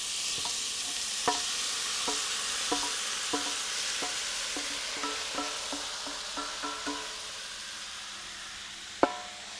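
Ground meat sizzling in a pan with vegetables for a meat and mushroom ragù, with a soft steady frying hiss and a series of light, intermittent scrapes and taps as it is stirred, one sharper knock near the end.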